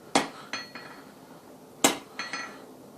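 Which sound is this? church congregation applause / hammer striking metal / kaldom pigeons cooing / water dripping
hammer striking metal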